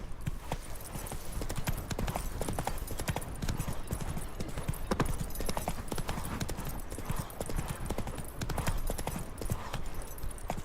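Roach the horse gallops in The Witcher 3: Wild Hunt, rapid rhythmic hoofbeats pounding steadily and loudly throughout, with a faint neigh and game ambience beneath.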